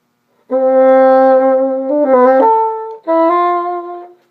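A solo bassoon plays an ornamented excerpt of Weissenborn etude #21, sustained reedy tones with a quick turn of fast notes before a leap, then a brief breath and a held closing note.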